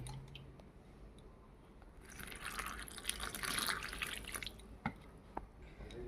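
Cut eggplant being washed: faint drips and wet squishing swell into a brief splash of running water and handling, then settle into scattered drips, close and quiet.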